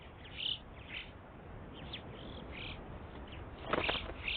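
An alpine chough, the yellow-billed relative of the common raven found across the Alps, gives several thin, chirping calls at irregular intervals over a steady outdoor hiss, fairly faint and somewhat distant.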